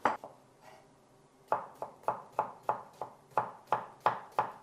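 A sharp knife slicing onions on a cutting board: about a dozen crisp, close cuts in a steady rhythm after a short early pause.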